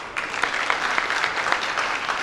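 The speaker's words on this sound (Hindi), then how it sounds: "एक बार जोरदार तालियां होना चाहिए।" Crowd applause at an event honouring a Pandwani folk singer in Chhattisgarh, many hands clapping in a dense, even patter with a few sharper claps standing out, steady throughout and without speech.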